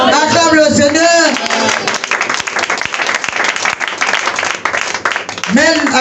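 A church congregation at a Sunday service claps and cheers in praise, a dense roar of applause and shouts. Loud singing voices rise at the start and again at the end.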